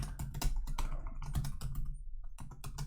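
Fingers typing on a computer keyboard, a quick irregular run of close, crisp key clicks with a brief pause before the tapping resumes.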